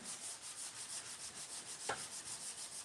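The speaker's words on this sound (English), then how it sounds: "Jennifer McKee, love seeing you sanding" Furniture being sanded by hand, an even back-and-forth rasping in steady rhythmic strokes, close and continuous with no talking.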